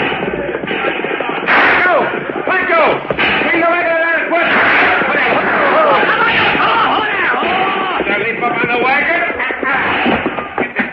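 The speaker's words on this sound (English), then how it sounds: "It's a Gatling gun." A Gatling gun fires in bursts in an old radio western drama, a dense rattling barrage of gunfire blended with shouting voices and dramatic sound effects throughout.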